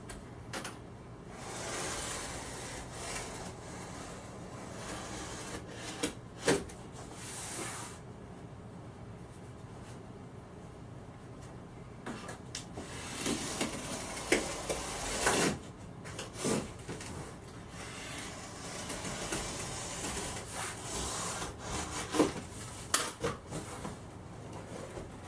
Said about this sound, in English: score it once again. I'm using the Phillips screwdriver to do that.